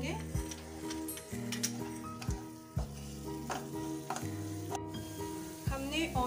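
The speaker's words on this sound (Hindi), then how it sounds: "हमने ऑनियन पेस्ट और जिंजर गार्लिक पेस्ट को अच्छे से भून लिया है" Onion paste with ginger, garlic and green chili paste frying in a pan for malai paneer, a steady close sizzle broken by repeated scraping stirs and spoon clinks.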